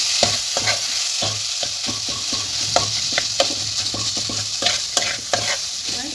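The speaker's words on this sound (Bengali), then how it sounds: "ভালোভাবে এইভাবে নেড়ে নেব" Banana flower mixture stirred in a frying pan for a Bengali mochar chop, with a spoon scraping in steady irregular strokes over a constant close sizzle of hot oil.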